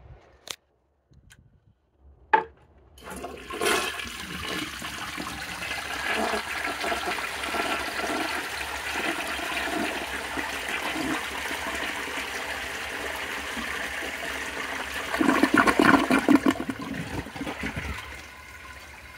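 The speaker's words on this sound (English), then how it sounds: "That is an awesome flush." A blue 1972 Kohler Wellworth toilet flushes after a few clicks of the handle, a loud rushing swirl of water that holds steady for about twelve seconds and swells briefly with gurgling before draining.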